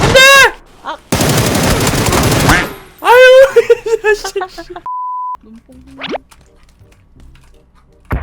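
Gunfire bursts in PUBG (Battlegrounds) during a squad match: a loud dense volley followed by sharper shots, then an electronic beep and a rising game tone, with players' voices mixed in.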